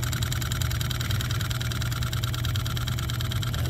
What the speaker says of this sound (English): that is a Stirling engine running.